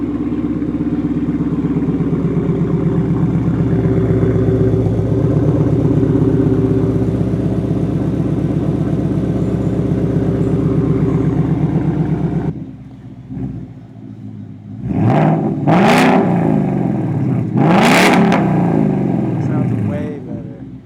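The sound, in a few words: Mustang V8 exhaust idling and revving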